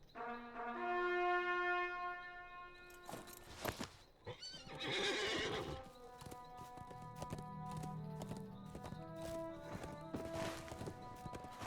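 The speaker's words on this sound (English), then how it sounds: "So let's switch actually to the War Steed" Horse mount (War Steed) in the Lord of the Rings Online video game: a loud neigh and whinny, then steady clip-clop hoofbeats as it rides, with no talk.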